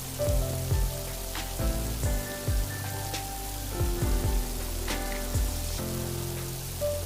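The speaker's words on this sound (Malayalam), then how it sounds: "രണ്ട് ഭാഗവും ഇതുപോലെ നന്നായിട്ട് ഫ്രൈ ചെയ്തെടുക്കുക. ഏകദേശം ഒരു ഗോൾഡൻ ബ്രൗൺ നിറമാകുന്നവരെ ഫ്രൈ ചെയ്തെടുക്കുക." An evening snack fries in hot oil until golden brown on both sides, giving a steady crackling sizzle broken by repeated bursts of popping and spattering, close and fairly loud, with no voices.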